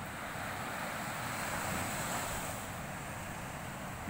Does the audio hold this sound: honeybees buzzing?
no